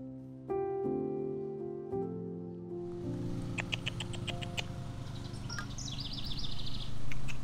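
Bright, high chirps and short calls from small birds flicker over a sustained low tone and steady background hum, growing busier toward the end.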